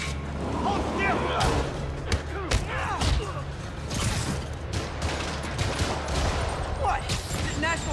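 Rockets fired at Spider-Man during a boss fight against Kingpin (Wilson Fisk) in the Spider-Man PS4 game, with repeated sharp blasts, whooshes and thuds in a loud, dense barrage. Game music and effects run under voices talking.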